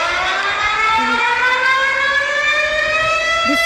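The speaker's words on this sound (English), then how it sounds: "It sounds like a tornado siren." Emergency alert system alarm resembling a tornado siren: a loud, steady rising multi-tone wail that holds continuously through the clip, with no voices.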